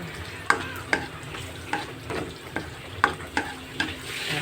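Garlic sautés in a pan as a spoon stirs it, giving rhythmic scraping strokes about every half second over a constant soft sizzle, with no voices.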